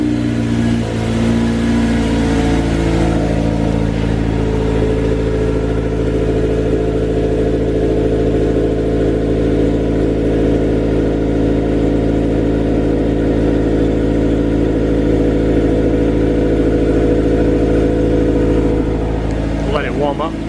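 Honda S2000 engine with fresh spark plugs and a newly fitted clutch fires up and revs, then settles into a loud, steady, smooth drone close by for about twenty seconds, with brief voices near the end.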